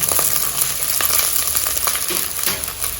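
Brinjal and drumstick with onion sautéing in a pan, a steady close sizzle and frying crackle with occasional soft stirring scrapes, continuous and alone.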